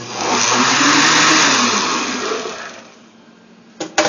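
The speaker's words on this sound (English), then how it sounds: "One more stir with the blender." A blender whirs loudly at high speed mixing a mocha smoothie, then winds down and fades, followed by a couple of clunks at the end.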